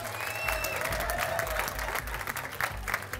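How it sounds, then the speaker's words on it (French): An improv match audience gives a steady round of applause, dense clapping continuing throughout with faint crowd murmur underneath. "J'aimerais ça qu'on leur donne une excellente et grosse main d'applaudissements."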